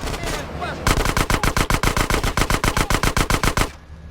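Loud, rapid submachine gun burst in a Grand Theft Auto video game, about twenty evenly spaced shots after a brief lead-in, ending abruptly.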